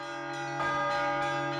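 Church bells ringing at St. Basil's Cathedral in Moscow, with sustained, strongly tonal chimes whose overtones hang steadily while fresh strikes land roughly every half second, loud and close without any voices.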